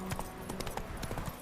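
Hooves of the horse Roach clip-clop in a steady walking rhythm in The Witcher 3, several crisp, evenly spaced steps over a soft background, close and quiet.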